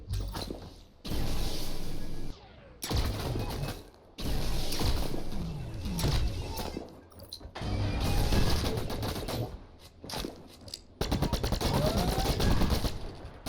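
Gunfire from The Signal from Tolva, a video game set in a junkyard: loud, broadband volleys of rapid shots in several bursts separated by brief pauses.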